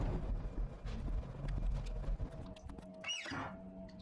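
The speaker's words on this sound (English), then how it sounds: "As you can hear by the footsteps, this is new." Footsteps thud in a steady clip-clop rhythm through the horror game Chilla's Art: The Ghost Train, fairly quiet and up close, with a brief high squeal near the end and no talk.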